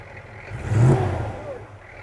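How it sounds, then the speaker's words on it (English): The Sandy 60 4WD vehicle engine gives a single rising rev, swelling loudly and then fading, heard close at an outdoor 4WD show. "Give us a bit of exhaust note."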